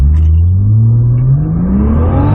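A Jeep Grand Cherokee Trackhawk launches and accelerates hard, its engine note climbing steadily in a loud, close roar through the gears with no talking over it.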